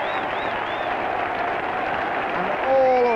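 A stadium crowd at a Stoke City versus Brighton football match applauding a player, a steady wash of clapping that is distant and continuous, swelling slightly near the end, under a commentator's voice.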